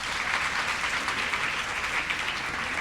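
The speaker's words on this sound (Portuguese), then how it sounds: "Palmas, por favor." Steady, dense applause from an audience at a university book club debate in Brazil, welcoming a professor to the stage, sustained and fairly loud without pause.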